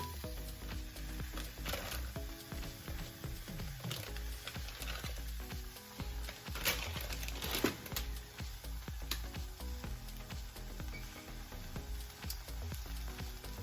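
Philly cheesesteak filling topped with provolone cheese sizzles in a pan, a faint, steady crackling fry with occasional small pops and no talk.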